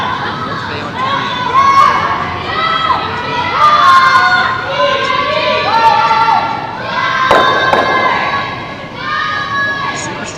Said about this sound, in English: that trademark Japanese cheer and teamwork and teamwork out on the ice